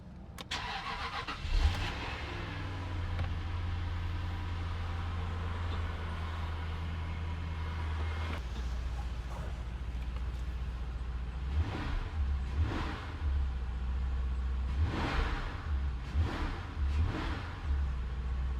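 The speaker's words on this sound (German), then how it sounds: "Wir werden den Motor nun kalt starten und etwas laufen lassen." A Jaguar X308 engine cold-starts with a sharp crank and catch, then settles into a steady low idle with a few brief revs rising and falling, fairly close and alone.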